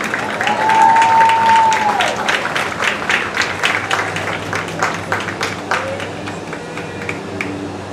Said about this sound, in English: Let's give a round of applause, ladies and gentlemen, for the 2022 Carroll Tigers seniors.